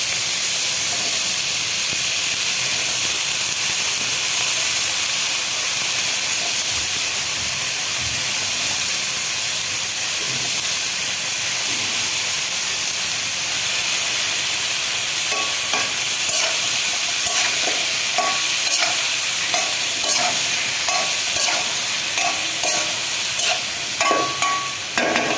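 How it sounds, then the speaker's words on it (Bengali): Cauliflower being stir-fried in a pan gives a steady, loud sizzle and hiss throughout, with brighter scraping and stirring clatter toward the end; no one speaks. "এখন ফুলকপি দিয়ে ভালো মতন কষাই।"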